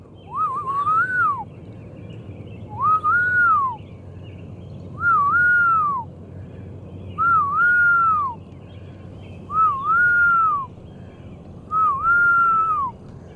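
A person imitating a raccoon call at night by a ravine, making six evenly spaced rising-and-falling whistled cries, each about a second long, faint and distant over a low background rumble.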